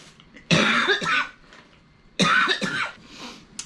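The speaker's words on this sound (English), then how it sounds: "I've been coughing my head off." A person coughs hard in two separate bursts, each a loud, rough, close-up fit with a throat-clearing quality, and a short quiet gap between them.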